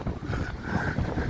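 Steady wind buffeting a microphone on Blackpool promenade near North Pier, a continuous low rumbling roar with gusty swells throughout and no talking.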